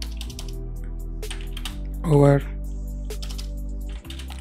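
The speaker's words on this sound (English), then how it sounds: "you can just start typing your text" Typing on a computer keyboard: quick, light key clicks tap along steadily over a low background hum, and someone speaks briefly in the middle.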